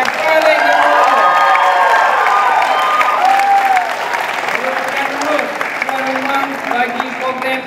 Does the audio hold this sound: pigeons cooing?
no